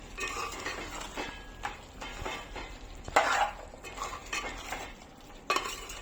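A utensil scrapes and clinks against a pan while salt is stirred into frying chicken, with irregular knocks and a soft sizzle underneath and two sharper clatters standing out.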